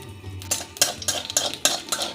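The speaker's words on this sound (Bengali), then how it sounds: "তেলে অল্প লবণ ছিটিয়ে আমি দিচ্ছি একটা ফোড়ন তেজপাতা শুকনো লঙ্কা" Bay leaf, dried red chilli and nigella seeds fry in very hot salted oil in a pan while a utensil stirs and scrapes, giving a soft sizzle under a series of sharp metallic clacks.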